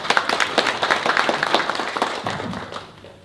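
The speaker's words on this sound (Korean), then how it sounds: "다시 한번 박수 부탁드리겠습니다" Audience clapping at a user conference lecture, a brisk burst of many hands with sharp individual claps that thins and fades out over about three seconds.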